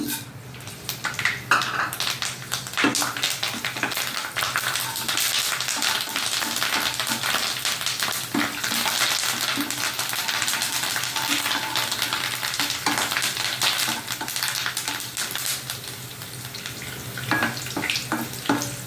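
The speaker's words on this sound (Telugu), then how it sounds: "స్ప్రెడ్ చేసి మినపప్పు, ఆవాలు, జీలకర్ర, ఎండుమిరపకాయలు, కరివేపాకు వేస్తాను" Urad dal, mustard seeds, cumin, dried red chilies and curry leaves sizzle steadily in hot oil for a carrot and coconut fry, with stirring scrapes and a few bright crackles over a constant frying hiss, close and fairly loud.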